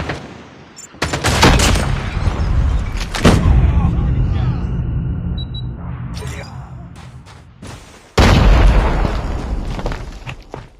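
Heavy gunfire and booming explosions in a military combat video game, with dense loud bursts that trail off and then hit again with a sudden blast; voices call out in the game.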